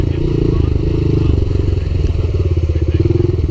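Bashan Brozz 250 Chinese dual sport motorcycle riding through snow off road, its single-cylinder engine chugging loud and close with a rapid thumping pulse, plus clattering and scraping from the ride.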